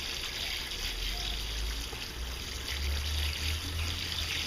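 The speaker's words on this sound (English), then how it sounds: "run the water through here." Water from a laundry hose runs steadily through a gold prospecting sluice outdoors, a continuous close trickling and gushing wash with no break.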